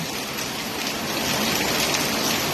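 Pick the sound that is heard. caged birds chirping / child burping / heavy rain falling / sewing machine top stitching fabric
heavy rain falling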